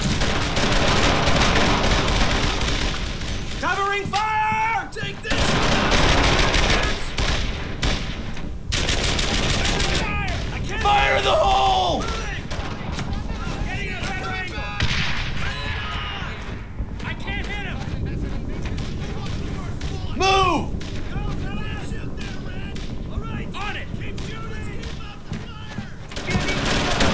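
Sustained WWII-style gunfire from Brothers in Arms: Earned in Blood, with dense machine-gun bursts and rifle shots cracking almost nonstop under shouted voices and wind-like battlefield noise.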